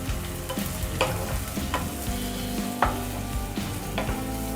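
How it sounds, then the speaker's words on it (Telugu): Finely chopped onions sizzling in hot oil for a gongura chicken curry, a steady crackling fry broken by several clattering scrapes of a spoon stirring the pan, close and clear with no talking. "ఉల్లిపాయలు నూనెలో బాగా మగ్గాలి."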